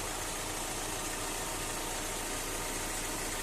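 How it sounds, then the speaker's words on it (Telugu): A 2017 Hyundai Creta 1.4 S car engine idling, a steady, even hum with no revving, heard close and alone throughout. "మీకు ఇంజన్ సౌండ్ కూడా చూపిస్తాను చూడండి."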